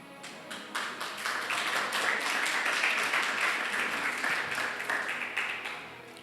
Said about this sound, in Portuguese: Pode se assentar e aplauda o nome do Senhor